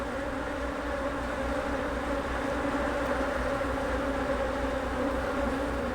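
Honeybees drone continuously in an open beehive, a dense, steady buzz with a low hum that stays even and close the whole time, with no voices.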